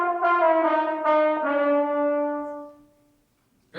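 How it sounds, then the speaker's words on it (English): A French horn played by a middle school band student at a winter concert, sounding a few sustained, rich brass notes in a short phrase that fades out, then a brief sound at the very end. "this is what the horn sounds like"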